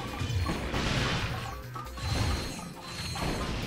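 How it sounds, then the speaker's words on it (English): The Bouncer weapon in Ratchet and Clank Going Commando smashes a group of crates at once, producing a series of loud, close crashes and splintering bursts with mechanical clatter, coming in several overlapping waves. "Enjoy smashing every box in that area in one shot."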